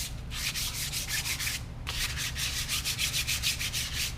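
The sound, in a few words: sanding wheel with 800 grit wet dry sandpaper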